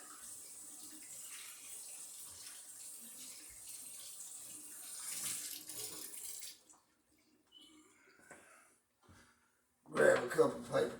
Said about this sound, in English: Rinse my hands with hot water.